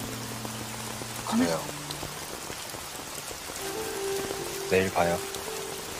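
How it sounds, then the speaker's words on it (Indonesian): Heavy rain pours steadily throughout a Korean drama scene, a dense hiss on hard surfaces beneath two short spoken lines and some quiet background music. "hujan pun turun dengan deras"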